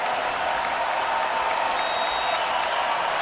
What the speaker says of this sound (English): Crowd beginning to get into it now at the Bob Devaney Sports Center.